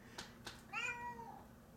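A grumpy tabby cat in an attic gives a single faint, drawn-out meow after two soft clicks, heard alone in a quiet space.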